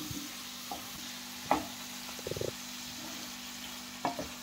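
Fish intestine and brinjal with salt and turmeric frying in a pan, a faint steady sizzle with occasional stirring clinks and scrapes, a low hum running underneath.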